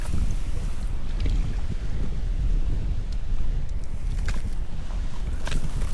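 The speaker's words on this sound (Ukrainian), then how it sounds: "піднявся у нас вітер такий немаленький" Strong wind buffets the microphone continuously while pike fishing, a dense low roar with gusts, alongside faint water and boat-like knocks.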